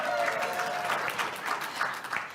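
Audience clapping at a talk, a short burst of many hands that swells, then tapers off and fades within a couple of seconds, moderately loud.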